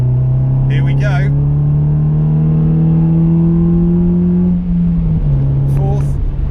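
A car with refurbished brakes, braided lines and a short shifter pulls hard in third gear toward a 60 mph national speed limit, its engine drone rising steadily before a brief dip at the shift into fourth, with a voice talking over it.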